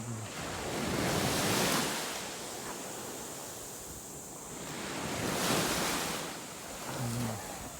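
Ocean surf at Bolinao, Pangasinan, rolls in steady swells, waves rising and breaking twice in broad rushes of noise, with wind buffeting the microphone throughout.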